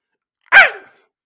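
A person's voice imitates a fox bark with a single sharp, loud, rising-then-falling yelp, close to the mic and alone in silence.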